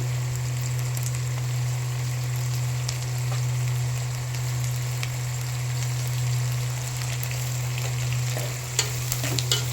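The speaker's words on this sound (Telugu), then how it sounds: "ఆనియన్స్ కూడా వేగిపోయాయండి. ఇప్పుడు టమాటా వేసుకున్నాం." Onions, tomatoes and green chillies sizzle steadily in a hot pan, a continuous crackling hiss with a constant low hum beneath and no talking.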